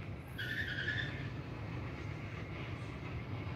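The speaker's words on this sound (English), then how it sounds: "They're just dragging the vehicle." A car without its key being dragged along a street by a repo truck at night, giving a steady scraping, grinding rumble with a brief squeal early on, continuous and moderately close.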